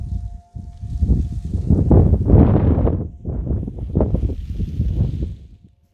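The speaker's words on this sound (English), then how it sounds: "The noise you hear is that quaking aspen right there." Quaking aspen leaves rustle in the wind outdoors in a park, a soft rain-like hiss that swells and fades in gusts, moderately close with no talking.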